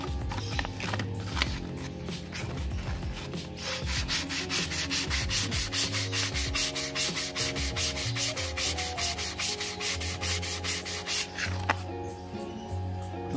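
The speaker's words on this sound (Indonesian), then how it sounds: "tujuan amplas ini supaya lidahnya itu bisa menutup dengan rapi ya" Steady back-and-forth rubbing of sandpaper on a Yamaha RX-King reed valve membrane, close and rhythmic, continuing for several seconds with no talk.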